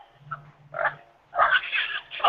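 A young pig on an Ohio pig farm gives a few short grunting, oinking calls close by, with pauses between and no talk.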